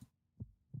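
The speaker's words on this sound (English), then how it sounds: "Your heavy heartbeats echo wearily, a dull drumming within the hollow of your chest." A heavy heartbeat sound effect from the video game Punishing: Gray Raven thumps twice, deep and dull, with slow, even spacing, alone against near silence.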